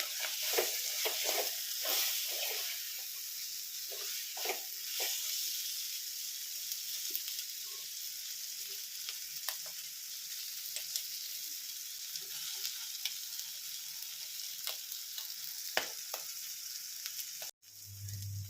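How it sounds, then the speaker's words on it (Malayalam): Clams roasting in coconut oil in a pan, a continuous close sizzle and hiss with occasional stirring scrapes, cutting off briefly near the end. "കുറച്ചും കൂടി വെളിച്ചെണ്ണയൊക്കെ ഒഴിച്ച് നല്ലോണം റോസ്റ്റ് ചെയ്തെടുക്കാം"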